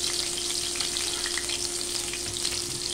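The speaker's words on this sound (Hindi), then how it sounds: "इनको भी अच्छे से भून लेते हैं।" Finely chopped green chillies frying with cumin and black pepper in hot oil, a dense continuous sizzle that stays loud and close throughout, with faint stirring underneath and no voices.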